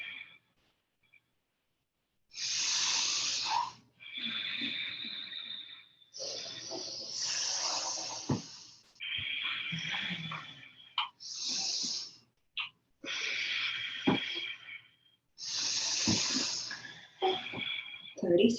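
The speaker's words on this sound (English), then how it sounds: "Make sure you can hear that inhale and you can hear that exhale." Strong, forceful breaths drawn in and pushed out through the nose during Kundalini yoga, a steady run of loud hissing inhales and exhales in close succession, each a few seconds long, after a brief quiet start.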